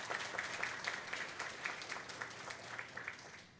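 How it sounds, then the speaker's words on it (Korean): Church congregation applauds during a Sunday service, many hands clapping together in a continuous, fairly distant patter that tapers off at the end, with no talk over it. "박수 한번 해주세요."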